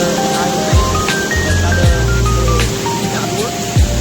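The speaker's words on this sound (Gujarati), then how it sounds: "આટલું પાણી પડે તો આટલો અવાજ આવે" Heavy rain pours down as a loud, steady rushing wash of falling water that fills the whole stretch, with voices and some tonal sounds mixed over it.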